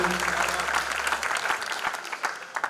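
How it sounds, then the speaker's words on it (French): Applause from a gospel concert audience, a dense patter of many hands clapping that thins and grows more scattered toward the end, with a low sustained tone fading out early. "Encore des applaudissements d'amour"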